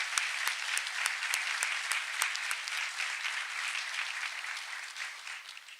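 Applause rises at a university commencement as cum laude graduates stand, a fairly soft and distant wash of clapping with a few crisp individual claps early on, fading gradually toward the end.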